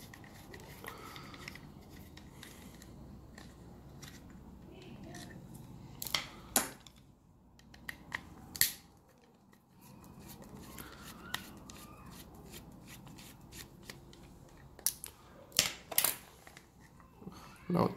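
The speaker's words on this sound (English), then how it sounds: "So let's remove these two more screws." Small screws being backed out of a Sonoff S26 smart plug, with faint scraping and scattered sharp clicks and ticks of the screwdriver and plastic housing, close and quiet.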